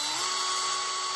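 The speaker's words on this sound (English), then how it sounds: "I'll just wiggle the drill around a little bit." A power drill bores through a Halloween craft piece, a steady high-pitched whine held loud and close for the whole moment with no pauses.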